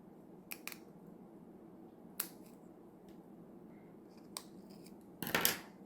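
Scissors trim excess wavy paper trim from a die-cut pot for a handmade card, making a few sharp, separate snips in a quiet room, then a short louder burst of paper rustle at the end.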